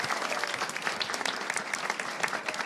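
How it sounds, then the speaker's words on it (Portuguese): Dense audience applause fills a journalism event at a university gathering, a steady wash of many hands clapping close by, with no voices rising above it. "Uma salva de palmas, gente."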